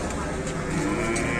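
Raging, unruly cattle low loudly in a drawn-out moo, with farm noise and a faint human voice behind the animal.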